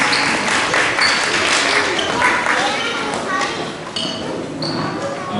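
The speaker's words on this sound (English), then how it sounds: "One last round of applause for them as you head back to your seats" An audience at a school summer celebration gives Year 1 pupils a round of applause, a dense, close clatter of clapping with scattered voices and occasional bright pings as children return to their seats.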